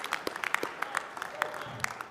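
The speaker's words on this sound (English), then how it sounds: "Let's get a round of applause, please, for Michael Buffer." Crowd at a boxing press conference claps for the ring announcer, with sharp, scattered individual hand claps rather than a full ovation, brief and moderately close.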